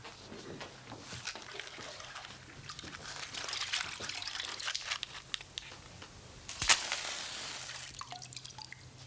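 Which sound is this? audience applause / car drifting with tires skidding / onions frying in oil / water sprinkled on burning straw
water sprinkled on burning straw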